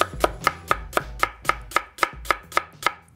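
A knife chops through a cucumber on a table in a quick, even rhythm, about a dozen crisp close strikes in a row with no talk.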